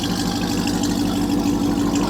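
A 2022 RAM TRX 1500 pickup's engine idling nearby, a steady, loud low rumble with an even pulsing throb and no speech over it.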